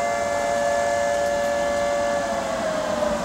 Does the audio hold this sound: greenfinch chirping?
no